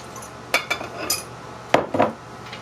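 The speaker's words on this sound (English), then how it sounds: "we're going to mix this all really well" A spoon or utensil scrapes and clinks against a bowl while vanilla shortcake dough from an old Amish recipe is mixed. A few irregular knocks and scrapes sound close by over faint background noise, with no talking.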